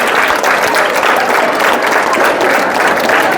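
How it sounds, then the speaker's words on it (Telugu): An audience at a public gathering breaks into loud, sustained clapping that stays dense and continuous throughout, with no pauses. "క్లాప్స్ గట్టిగా చప్పట్లు మా గట్టిగా మేడం గారు"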